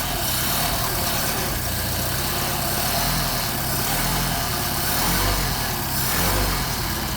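A Mercedes 190SL with Solex carburettors idles after a cold start, holding a steady, loud, close engine rumble with a gentle rhythmic pulse and no voices.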